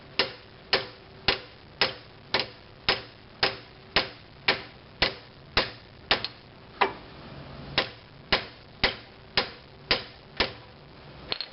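Repeated sharp hammer blows pound on a seized front brake caliper pin of a 2005 Scion tC, gripped with large vise-grip pliers; about twenty steady, evenly spaced metallic knocks, close and crisp.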